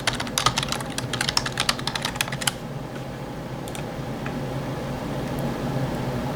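Quick clicking keystrokes on a computer keyboard while logging in, a close burst of typing for a couple of seconds followed by a quiet room hum.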